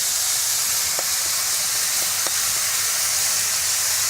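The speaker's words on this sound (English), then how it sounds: "Really want to put on the rest of that marinade" A honey, lemon and soy chicken marinade sizzling in a hot pan, a steady loud hiss of frying broken by a few faint pops and crackles, with no voices.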